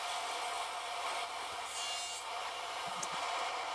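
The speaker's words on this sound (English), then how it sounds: "I'll make a miter cut on one end of each of the 4 sides" A hand saw cutting miters in wood for a serving tray, a faint, steady rasping stroke sound under a constant background hiss.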